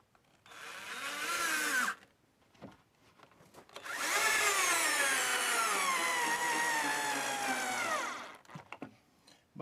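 A cordless power drill drives screws into deck wood, one short whine followed by a long sustained run of rising and falling motor pitch, close and loud, with no talking.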